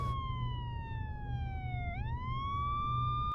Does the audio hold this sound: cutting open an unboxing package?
no